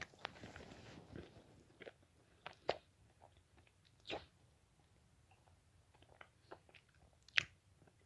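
A Choceur milk chocolate peanut butter cup being chewed close to the mic, with quiet irregular bites and soft crunchy chewing sounds spread over several seconds and no talk.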